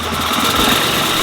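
A supercharged BMW M3 engine runs badly, giving a loud, close, rough, uneven idle with a lumpy knocking pulse over a brief stretch, with no voices.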